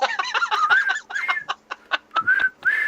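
A cheerful whistled tune from an anime trailer, the bright notes rising and sliding in short bursts, close and fairly loud with no talking.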